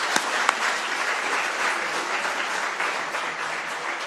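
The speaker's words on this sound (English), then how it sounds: "Another round of applause for that." Audience applause at a security conference keynote, a steady wash of many hands clapping that fills the whole stretch at an even level, with a couple of sharper claps standing out near the start.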